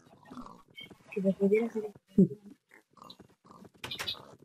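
Pigs oinking in the Minecraft video game, several short grunts scattered through the clip, mostly under a man's Spanish conversation.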